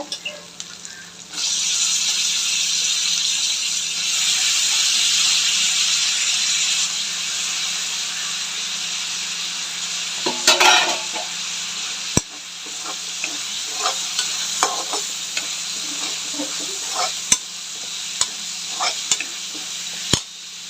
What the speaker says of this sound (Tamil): வெங்காயம் இஞ்சி பூண்டு எல்லாம் நல்லா வதங்கிடுச்சு. இப்போது நம்ம தக்காளி சேர்த்துக்கலாங்க.